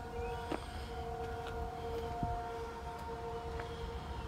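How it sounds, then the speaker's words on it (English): Air raid siren droning steadily far in the background, a faint sustained tone behind quiet outdoor noise with a few soft knocks. "Hear the air raid sirens in the background?"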